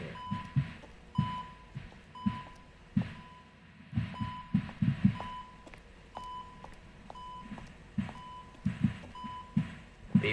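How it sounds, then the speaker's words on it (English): Repeated electronic beeping in a video game, a short tone recurring every second or so alongside low thudding pulses, fairly quiet and continuous with no talking. "The beeping is getting quite annoying."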